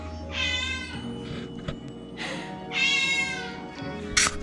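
Indoor cats meow in several drawn-out, wavering cries, some plaintive and some sharper and more agitated, close and clear with no talking.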